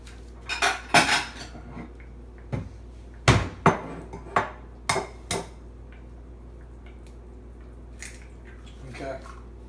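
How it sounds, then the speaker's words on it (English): A single egg beaten with a utensil in a bowl gives a run of sharp, irregular clinks and taps, loud and close at first, then thinning out to a few scattered knocks. "you'll take your egg and all you need is one, and you will beat that"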